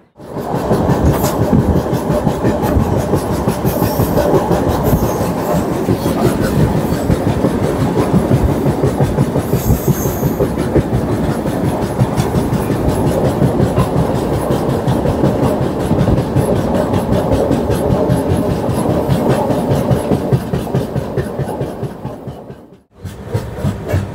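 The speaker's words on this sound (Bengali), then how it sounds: "আমাদের ট্রেন কিন্তু এখন ছাড়লো এই মুঘলসরাই স্টেশন থেকে" The Howrah–Haridwar Doon Express runs after pulling out of Mughalsarai station, with a loud, steady rumble and rapid clickety-clack of wheels on rail joints heard from inside, ending in a brief drop-out.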